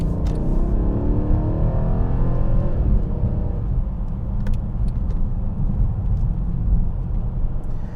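A 2016 Mercedes CLS63 AMG with all-wheel drive accelerates hard, its V8 rising in a loud, rumbling roar that eases into a steady, throaty drone from inside the car.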